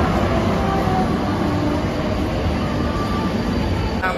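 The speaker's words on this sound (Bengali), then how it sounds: "এই যে আমাদের দমদম মেট্রো স্টেশনের মেট্রো চলে এসেছে" A Kolkata metro train at Rabindra Sadan station gives a loud, continuous rumble and wheel roar that fills the platform, with no break and no speech.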